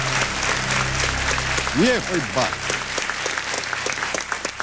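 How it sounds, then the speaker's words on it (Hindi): A studio audience at a quiz show breaks into sustained, dense clapping, loud and near, while someone speaks briefly over it partway through. "कोई जोरदार तालियां बज जाए तो अच्छा लगेगा।"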